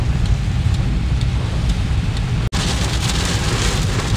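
Heavy rain pours down steadily at night on a drive between Maharashtra and Gujarat, a dense close hiss with a deep low rumble of thunder underneath and a sudden brief dropout midway.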